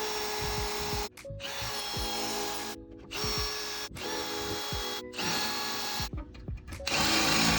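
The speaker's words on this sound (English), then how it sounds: "Gotta take these pieces off, but they're spot welded in. Just going to drill them out." A power drill bores out spot welds in the steel body panels of a Toyota 86 under rebuild, in several loud bursts separated by short pauses, with the drill pitch shifting as it bites into the metal.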